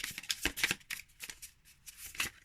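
Little Visions cards are shuffled by hand, giving quick irregular papery riffles and flicks in close, uneven bursts.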